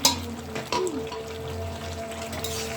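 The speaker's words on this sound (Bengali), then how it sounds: "একটু পানি দিয়ে আর একটু কষাবো যাতে মাংস আর কচুটা ভালোভাবে সিদ্ধ হয়ে যায়।" Water goes into a pan of chicken and taro curry, a brief splash and pour followed by steady sizzling and bubbling, close and moderately loud, with no talking.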